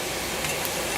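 Onions and garlic cook gently in butter in a pan for pasta with clam sauce, giving a dense, even sizzle at close range with no breaks.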